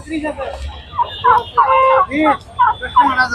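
Poultry calling at a country and foreign duck and chicken market in Tongi, with overlapping clucks and bird calls in short bursts, close and fairly loud over a busy market background.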